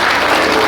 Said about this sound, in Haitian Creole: nous sommes gros applaudissements pour moi et pour